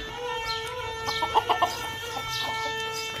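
Chickens cluck near a coop as wheat is scattered for them, a few short close clucks bunched together midway over a steady background hum.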